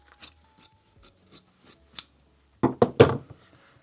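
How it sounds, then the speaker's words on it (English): Fabric scissors being picked up and handled: a run of light, evenly spaced metallic snips and clicks, followed by a louder cluster of close clattering handling knocks, then quiet. "I should get my fabric scissors."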